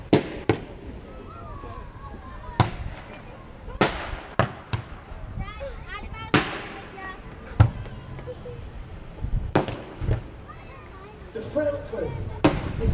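Guns fire during a staged naval battle display at Bridlington, a dozen or so sharp, loud bangs going off at irregular intervals, some close together, while voices talk in the background between the shots.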